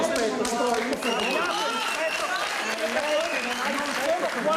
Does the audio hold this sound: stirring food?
no